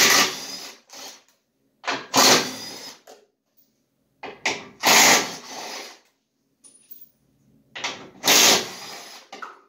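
A power tool fitted with a number 15 socket whirs in four short bursts with silent pauses between them, removing a part under a 2019 Chevy Traverse during a tow package install, close and loud.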